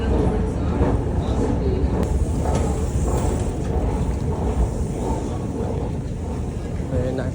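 A Vienna underground train station on the U2 line at Karlsplatz fills with a steady rumbling hum and a wash of crowd noise, while a person talks over it.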